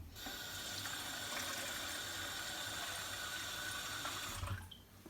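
Water pours steadily from a tap or hose into a small batch of mix for a compact wood- or charcoal-fired pizza oven, a continuous close splashing rush for about five seconds before it stops.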